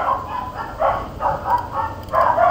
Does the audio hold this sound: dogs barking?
yes